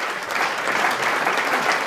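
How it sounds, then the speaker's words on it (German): Loud, steady applause from a studio audience welcoming a Swiss national councillor onto a talk-show stage, dense clapping sustained without a break and no speech over it. "bitte einen tosenden Applaus"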